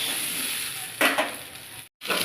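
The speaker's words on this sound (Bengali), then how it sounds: "একটু পাতলা ভেজে নেব।" Potato and pointed gourd pieces sizzle in hot oil in a pan, a steady close frying hiss with a brief stir around the midpoint and a short gap near the end.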